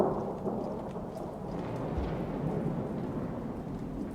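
Thunder rumbling in the rain-soaked world of Rain World: Downpour, a deep continuous low roll that swells and lingers over steady rainfall, close and heavy with no one speaking.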